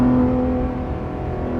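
A 991.2 Porsche GT3 RS exhaust drones and revs with a steady, throaty hum, close and loud, with no talking.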